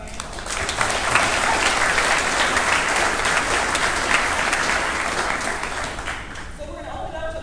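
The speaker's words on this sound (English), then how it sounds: "let's give a round of applause for our panel" A conference audience gives a round of applause for a panel at a tech event, loud, dense clapping that holds steady for several seconds before tapering off near the end.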